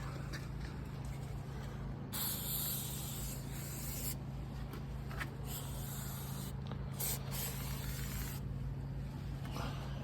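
An aerosol spray can hisses in several bursts, some short and one lasting a couple of seconds, close by and fairly loud over a low steady hum.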